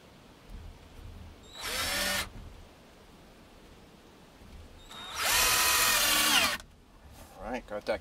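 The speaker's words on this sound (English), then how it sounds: "Got that countersunk nice." Power drill countersinking a hole in wood, with two distinct whirring bursts, the second longer, close up amid quiet handling noise and a few small clicks.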